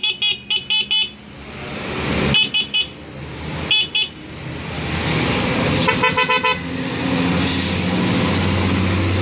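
A newly fitted loud horn on a TMX125 motorcycle sounds in clusters of short, sharp blasts, several quick toots at the start and more bursts later, alongside a rising engine and traffic rumble close by.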